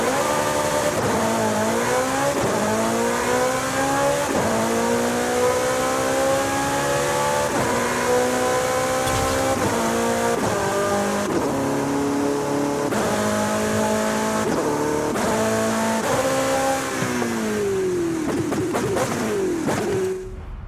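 A Porsche 918 fitted with an 8-speed transmission in Forza Horizon 5 revs hard and climbs through the gears, its loud engine tone rising and dropping at each quick shift, with no talking.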